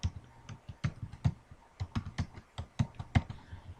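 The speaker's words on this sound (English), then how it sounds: "so just type in my password" A password typed on a computer keyboard during a Windows 7 setup, about a dozen crisp close keystrokes in an irregular quick rhythm, alone in a quiet room.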